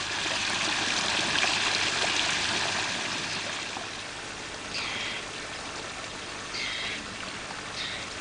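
Water pours from a free-flowing bore on Runnymede in the sandy outback, a steady rushing wash close by. A few brief, faint higher chirps break through in the second half.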